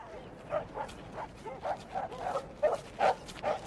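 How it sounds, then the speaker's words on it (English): Dogs bark repeatedly in a rapid, uneven series of moderate barks at middle distance over a low background hiss. "the gypsies' dogs began to bark the place down."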